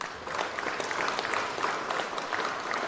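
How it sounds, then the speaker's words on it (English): A crowd claps for a dance group at a youth awards ceremony, steady dense applause filling the whole stretch at moderate volume. "A round of applause for them."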